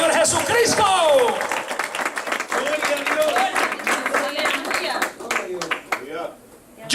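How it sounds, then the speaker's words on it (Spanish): A church congregation claps and cheers steadily while a pastor carries on loudly in Spanish over the applause, which fades near the end. "denle un aplauso al Señor Jesucristo"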